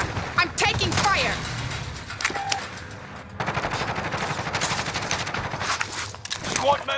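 Video game gunfire plays as bursts of rapid automatic shots mixed with single cracks, loud and close, while someone talks over them and in-game voice announcements cut in.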